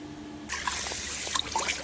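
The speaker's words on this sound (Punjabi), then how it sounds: "ਚਲੋ ਜੀ ਪਹਿਲਾਂ ਆਪਾਂ ਇਹਨੂੰ ਸਿੰਪਲ ਪਾਣੀ ਨਾਲ ਤੇ ਇੱਕ ਵਾਰੀ ਧੋ ਲਈਏ" Plain water rinses a burnt iron wok, starting after a short quiet moment as a steady, close splashing trickle with small drips and clinks over it.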